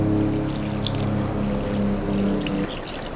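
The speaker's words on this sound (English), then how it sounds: "Now you want to cover this, just cover this with water." Water pours steadily from a pitcher into a Dutch oven, a loud continuous rushing splash for about two and a half seconds that then thins out as the flow stops.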